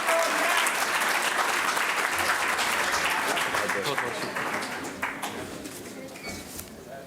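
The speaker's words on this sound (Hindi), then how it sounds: "मैक्सवेल ब्रूस साहब का भरपूर तालियों।" Audience at an Indo-Pak Urdu mushaira in North America applauds as the poet Maxwell Bruce is invited up, sustained dense clapping that fades slightly toward the end.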